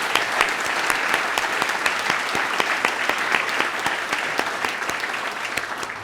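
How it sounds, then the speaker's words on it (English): A round of applause for a luncheon team at a town address, steady crowded clapping from many hands, sharp individual claps standing out over a continuous wash, sustained throughout without fading. "Let's have a round of applause for them, an amazing job they did."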